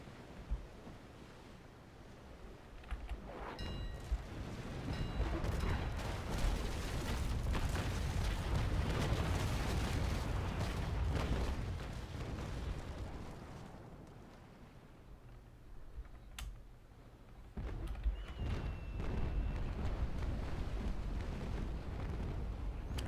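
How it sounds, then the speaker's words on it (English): Sailing warship in Naval Action firing a cannon broadside while running into the wind. A rolling, rumbling series of heavy booms runs over wind and sea noise, fades, then returns. "So we should get a perfect broadside here, running into the wind."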